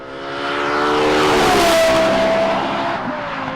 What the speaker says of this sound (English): This thing absolutely screams at wide open throttle.